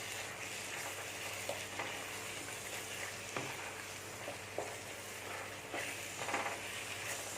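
Butter melts and sizzles in a pan of cashew chicken gravy, a soft, continuous frying hiss with occasional small pops and stirring scrapes, fairly quiet and with no voices.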